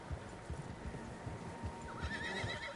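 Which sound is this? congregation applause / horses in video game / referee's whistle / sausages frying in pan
horses in video game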